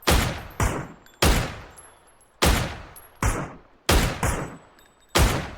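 Gunfire in the battle royale game PUBG: about eight loud, separate single shots fired at a measured pace, each cracking sharply and then ringing out briefly before the next.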